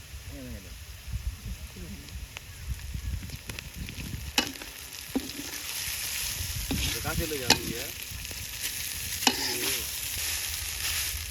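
Noodles stir-fry in a pan with browned onions and green chilies, sizzling steadily amid scraping stirs and sharp utensil clacks, while a voice talks faintly in the background.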